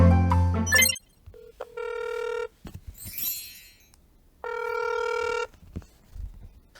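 A telephone call to a real estate agency in Korea rings out through the handset, with a steady tone sounding in two separate bursts, joined by brief clicks and line noise and a short stretch of indistinct voices.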